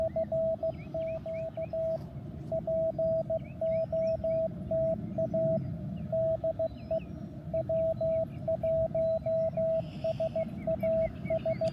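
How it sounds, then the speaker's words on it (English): Morse code sent over amateur radio during a park activation at Kenneth Hahn State Recreation Area: a steady single-pitch tone keyed in rapid dits and dahs with short pauses, loud over a constant band of low hiss and static. "So my Morse code is still shaky enough that something like that happens."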